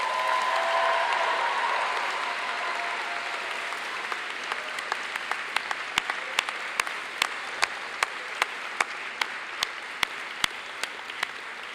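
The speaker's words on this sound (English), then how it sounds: "please share your gratitude with them with a round of applause for your family and friends" Commencement audience applauding family and friends, broad crowd clapping that thins out over time into a few sharp, evenly spaced claps near the end.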